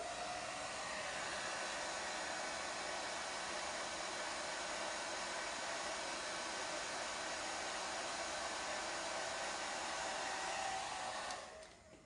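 A hair dryer drying chalk paste blows steadily with a constant rushing whir for several seconds, then begins to wind down at the end.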